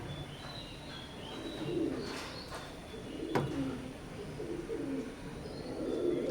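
A pair of Oman bloodline teddy pigeon chicks gives soft, low coos over a steady background hiss, with a few faint higher chirps and small clicks scattered through it.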